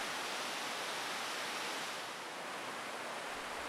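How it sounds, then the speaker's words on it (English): Waterfalls at the lower lakes of Plitvice Lakes in Croatia pour in a steady, dense roar of falling water, broad and unbroken with no voices. "The lower lakes in particular feel like a canyon of falling water."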